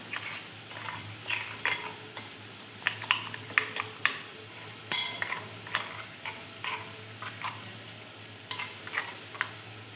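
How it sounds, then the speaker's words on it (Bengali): Gram flour batter being whisked with water for coating katla fish roe before frying, a steady run of quick close clicking and scraping strokes against the bowl, with no talk. "বেসনটা জল দিয়ে ভালো করে আমি ফেটিয়ে নেব"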